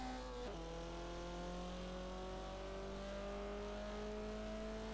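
A Toyota Celica engine in Forza Horizon 4 holds a steady, loud drone under acceleration, its pitch climbing smoothly after a quick shift near the start, with no voices over it.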